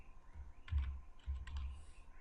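A few soft computer keyboard keystrokes, the Tab and Enter keys pressed while configuring a cloud database server, two small clusters of quiet clicks alone in a faint room.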